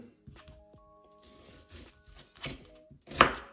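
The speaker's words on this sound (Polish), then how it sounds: "Cebulę kroję w kostkę" Knife dicing an onion on a board: scattered soft thunks and cuts, close by and fairly quiet, ending in a sharper louder chop.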